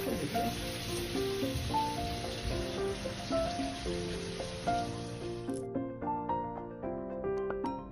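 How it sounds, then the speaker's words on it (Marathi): Masala puris deep-frying in hot oil over a medium flame, a steady bubbling sizzle with soft crackles, close and continuous, while faint music plays underneath. "मीडियम फ्लेमवर तळून घेऊया"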